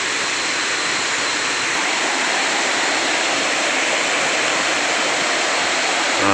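Continuous rushing roar of a forest stream and single-tier waterfall at Khun Korn Waterfall in Chiang Rai, loud, close and steady with no voices over it.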